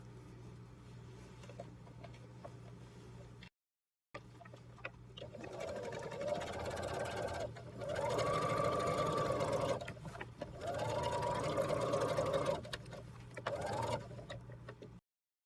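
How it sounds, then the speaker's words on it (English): A sewing machine back stitches a jacket in short bursts: a faint hum, a pause, then loud rapid stitching runs that stop and restart several times, close and alone. "do not forget to back stitch"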